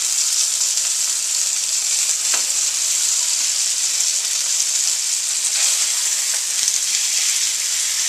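Marinated venison steaks sizzling in a pan, a dense, even, loud frying hiss that holds steady for the whole stretch with only a few faint ticks.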